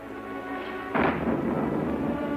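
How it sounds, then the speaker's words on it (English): Thunder during a storm, a single rolling rumble that breaks suddenly about a second in and lingers, moderately loud over a steady background hiss, with no voices. "it's stormy, ain't it?"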